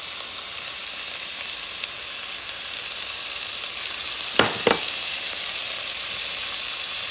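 Onion and sweet pepper sizzling in hot oil in a pan, a loud, dense, continuous hiss close by, broken by two quick clicks of a utensil near the middle, no speech.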